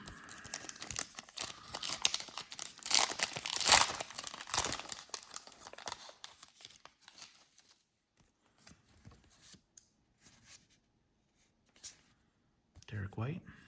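A trading card pack is being cut and torn open, with close crinkling and ripping of foil wrapping for several seconds before it fades into quiet, with a few faint handling sounds.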